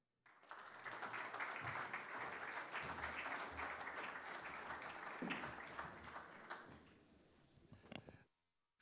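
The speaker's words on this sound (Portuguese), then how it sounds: "Marcelo Rebelo de Sousa, para quem eu peço um aplauso" Sustained audience applause for the President of the Republic at a formal award ceremony, a dense crowd of clapping that starts abruptly, holds steady for several seconds and then tapers off before stopping.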